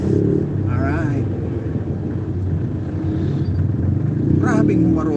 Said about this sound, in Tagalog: Grabing humarurot itong motor na ito.